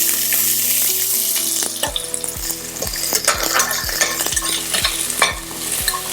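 Onion with cinnamon, cloves, bay leaf and cardamom frying in hot oil for a millet and fenugreek-leaf pulao, a steady close sizzle broken by regular scraping stirs of a spoon against the pan.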